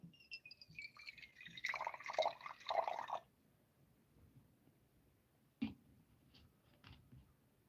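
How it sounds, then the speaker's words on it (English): Water is poured into oil for a DIY beauty emulsion, a close, trickling splash lasting a second or two, followed by quiet and a couple of small drips or taps. "So I'm just pouring my water."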